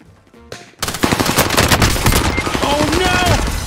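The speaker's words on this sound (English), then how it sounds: "I tried to hipfire someone with a burst weapon" Rapid burst-weapon gunfire rattles loud and close in Call of Duty Warzone, repeated volleys cracking over about three seconds after a short quiet lead-in.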